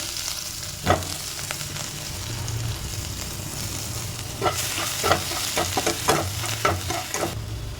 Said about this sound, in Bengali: প্রথমে তেলের মধ্যে দিয়ে দেবো গ্রেট করে রাখা রসুন